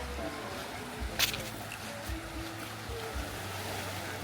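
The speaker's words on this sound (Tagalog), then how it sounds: "Ito yung dagat oh." Sea waves washing onto a beach at sunset, a soft continuous surf hiss with faint low wind rumble, and voices talking quietly over it.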